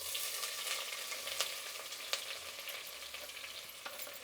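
Onions frying in oil with whole garam masala make a constant bright sizzle with occasional sharp crackles, heard close and alone without any voices.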